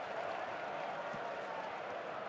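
Football stadium crowd applauding in the FIFA 13 video game, a soft, steady wash of clapping and crowd noise held at a low level throughout.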